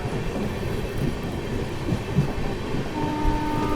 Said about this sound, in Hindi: तो निकल चुकी है अपनी झारखंड स्वर्ण जयंती एक्सप्रेस पतरातू से भी